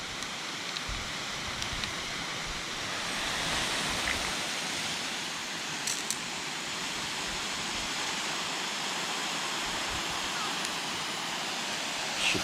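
Steady hissing spray from an irrigation sprinkler head on a newly installed residential lawn system, a continuous broadband wash of water held at an even, moderate level with no talk.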